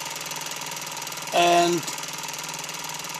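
A homemade Stirling engine built in 1978 as an emergency home power generator, giving a steady mechanical thrum with a fast regular ticking. A short tonal swell rises briefly in the middle, and a voice speaks one word.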